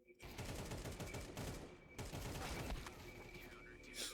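Sustained automatic gunfire rattles in Counter-Strike, rapid dense bursts running almost without pause and briefly breaking before resuming, loud and close.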